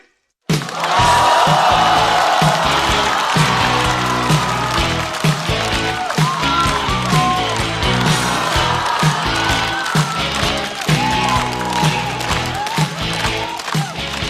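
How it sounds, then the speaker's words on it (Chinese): At a stand-up comedy show, an audience bursts into applause and cheers for an incoming comedian. Dense, sustained clapping starts abruptly and runs for about fourteen seconds, with a steady backing beat underneath. "让我们掌声欢迎雪冰"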